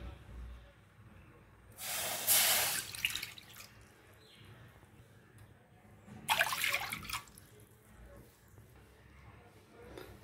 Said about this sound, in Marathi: आता या कढईमध्ये 2 वाट्या पाणी घालणार आहे